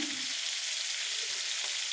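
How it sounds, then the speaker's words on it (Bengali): Rohu fish pieces fry in oil, producing a brief, steady, even sizzle of moderate loudness with no speech. "মাছগুলো আমার ভাজা হয়ে গেছে"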